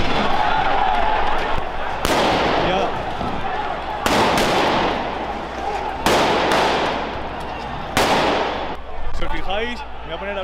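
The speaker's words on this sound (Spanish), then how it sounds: "están disparando pelotas de goma, se escucha" Rubber bullets are fired at a street riot in Madrid, with four or five sharp, loud bangs spaced about two seconds apart, echoing over crowd noise and voices.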